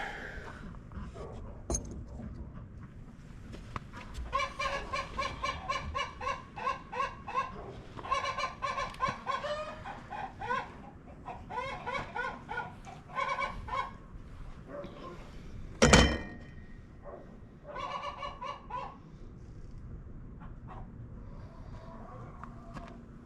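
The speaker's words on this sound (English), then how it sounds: "You can see the ducks are having an absolute blast over there." Ducks calling in rapid, chattering bursts of quacks and honks through the first half, then sporadic calls, with one loud sharp knock near the end over steady outdoor background.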